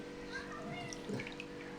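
A five-day-old newborn is lowered gently into bathwater, giving soft close splashes and trickles, faint beneath adults talking nearby.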